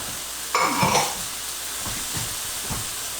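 Chicken with chopped coriander is stirred in a hot pan for a Hainanese chicken bowl, a brief scrape and clatter of the spoon over a soft, continuous sizzle.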